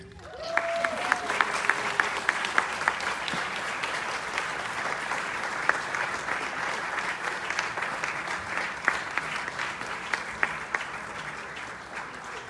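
A theatre audience at Cinecon 2022 in Los Angeles applauds as actress Patty McCormick is welcomed to the stage, steady clapping from a full crowd lasting the whole stretch, fairly close and even, with a brief voice near the start.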